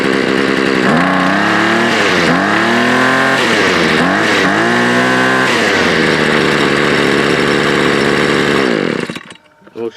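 A Makita gas grass trimmer, owned since 2013, starts from cold and runs loud and close. Its small engine revs up and down several times in buzzing surges, settles into a steady high idle, then cuts off abruptly.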